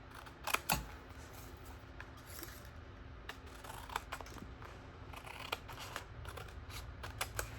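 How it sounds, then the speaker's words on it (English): Scissors trimming the sides of a paper card for a handmade hexagon-punch card, heard as a few sharp snips and light papery rustles, close and fairly quiet, with no talking. "you're going to flip it over and you're going to trim off the sides"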